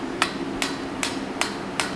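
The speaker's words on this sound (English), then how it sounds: "Oh, that was the set hammer." A blacksmith's set hammer strikes metal five times at an even pace, each blow a sharp, loud ringing clang heard close up over a low steady hum.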